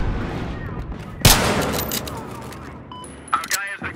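A single sharp gunshot from a Battlefield Hardline match rings out, followed by a lingering tail, then a few small metallic clicks and a brief burst near the end, while a player talks over the game sound.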